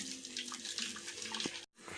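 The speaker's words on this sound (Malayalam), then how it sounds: "ഇതൊന്ന് നന്നായിട്ട് അരിച്ചെടുക്കാം" Freshly blended lime juice made with cold water pours through a strainer in a steady, close splashing trickle that stops abruptly near the end and then resumes briefly.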